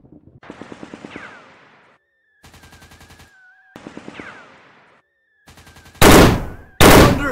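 Heavy automatic gunfire in a modern commando combat video game: bursts of rapid machine-gun fire, loud and close, separated by short gaps and ending in two very loud, dense blasts.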